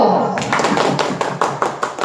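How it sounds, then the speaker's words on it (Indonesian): A classroom group claps for group one, giving a brief burst of several hands with uneven, tapping rhythm, close and moderately loud against a busy room background. "Kita kasih tepuk tangan untuk kelompok satu."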